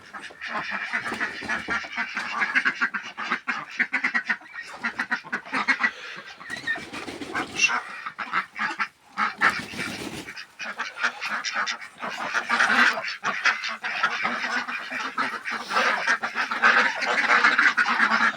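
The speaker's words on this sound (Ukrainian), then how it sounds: "подивіться, вся птиця мене гуляє" A busy flock of ducks and geese quacks and honks continuously nearby, calls overlapping in a loud, lively chorus.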